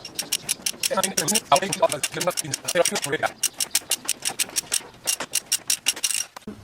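A ratchet with an extension clicks rapidly while removing a 15 mm nut on a Land Rover air strut, its close, sharp ticks running in bursts and then in a steady even rhythm, with someone talking over the first half.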